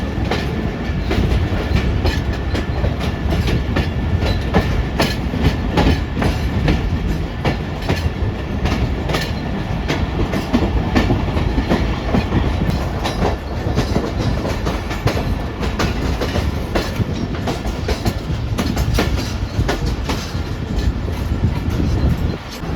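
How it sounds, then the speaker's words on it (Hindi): The Pak Business Express rolls from a loop line onto the main line, heard from inside with a loud continuous rumble and rhythmic clickety-clack of wheels over rail joints and points, steady throughout with no talking. "लूप लाइन से अब मेन लाइन पर दाखिल हो रही है हमारी ट्रेन।"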